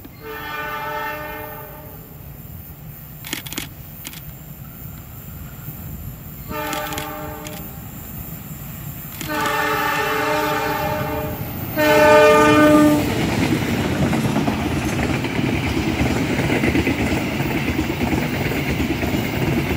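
Several trains meeting at the Kelok Mertan viewpoint, sounding repeated loud horn blasts in separate bursts, followed by the rumbling clatter of rail cars passing close by.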